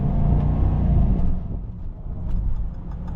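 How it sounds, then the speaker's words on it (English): A supercharged V8 in a 2023 Land Rover Defender 90 Carpathian Edition rumbles loud and close from inside the cabin, swelling slightly and then easing back as the engine note falls away. "Man, that supercharger sounds fantastic."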